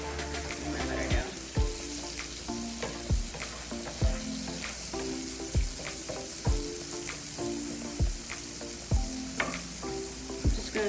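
Butter sizzles on a hot griddle, a steady frying hiss with regular sharp clicks and scrapes of a utensil on the metal.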